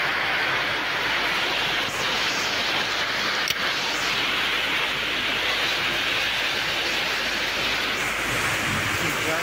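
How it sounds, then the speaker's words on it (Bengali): Rainwater falls and drips steadily inside a house during a thunderstorm, a dense continuous hiss of heavy rain close by with a brief sharp tap near the middle, no talk over it. "দেখো একটুখানি বাড়িতে এই যে জল পড়ছে"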